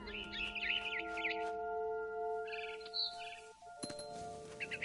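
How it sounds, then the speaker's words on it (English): A barn swallow chirps in What Remains of Edith Finch, several quick bright calls repeating over a steady musical drone, moderately loud and close. "Then I heard chirping outside my window. It was a barn swallow going back to her nest."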